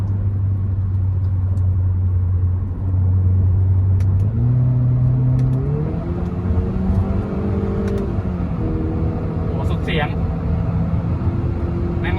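A remapped Honda HR-V with an aftermarket exhaust, running on E20 fuel, accelerates hard through its gears, the engine drone climbing in pitch with steps at each shift, heard from inside the car as a loud constant rumble.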